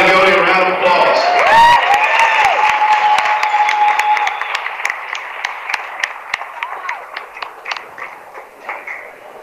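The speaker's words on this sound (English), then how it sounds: "Let's give Ryland Goudy a round of applause." A crowd gives Ryland Goudy a round of applause with some cheering and whistling, loud and dense at first, then thinning into scattered individual claps as it fades out.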